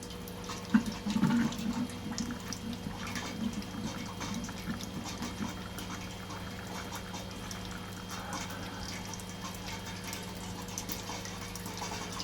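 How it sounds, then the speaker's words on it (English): Water runs steadily through a home-brewing HERMS system as it is flushed out, a continuous low rushing flow with a few brief clanks near the start, alone and at moderate level throughout. "What I am going to do though is just flush out the herms."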